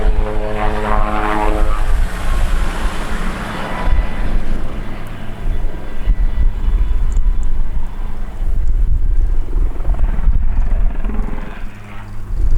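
A British Army Lynx Mk. 7 helicopter displays at an airshow, its loud rotor and turbine roar sweeping close past, with wind buffeting and a droning throb that swells and eases as it manoeuvres.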